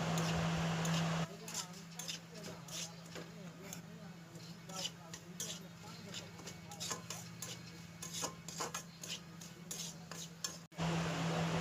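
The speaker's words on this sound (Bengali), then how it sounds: "তো সুজিটাকে এখন ভাজার পালা, চলো ভেজে নেওয়া যাক" Semolina roasting in hot ghee in a pan, with a utensil scraping and stirring through it in steady, repeated strokes close by, over a low continuous hum and soft sizzle.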